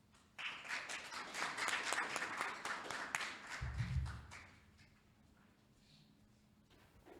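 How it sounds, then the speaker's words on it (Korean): An audience at a forum applauds to welcome a professor speaker, with a few seconds of steady clapping in a hall, a low thump near its end, then quiet room tone. "큰 박수로 맞아주시기 바랍니다"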